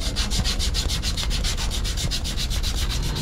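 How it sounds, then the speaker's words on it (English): Abrasive sanding on a metal pipe to strip old solder, done in a building's chiller room: a steady, fast rhythmic rubbing scrape, close and loud, running continuously with no talk over a low mechanical background hum. "What I want to do is sand that off"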